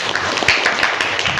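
Classmates in a school classroom clap for a student in a brief, dense burst of applause that stays steady throughout.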